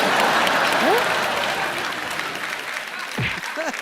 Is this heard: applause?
yes